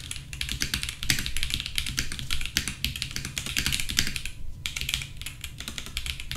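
Rapid typing on an AKKO 5075B Plus ISO mechanical keyboard connected wirelessly at 2.4 GHz: dense, continuous clacking of keystrokes, close and crisp, with a brief lull near the end and no speech.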